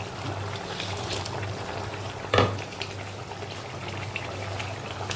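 Potatoes simmer in a pot of curry liquid for dhoka curry, a soft continuous bubbling and light frying hiss with one brief clatter in the middle.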